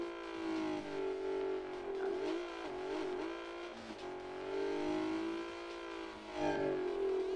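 A weak car's engine in the Drift Max Pro racing game revs and drones continuously, rising and falling in pitch at a fairly quiet level.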